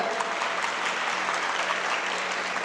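Dense audience applause from a crowd at a motivational speech event, a steady loud wash of clapping with no breaks, heard close.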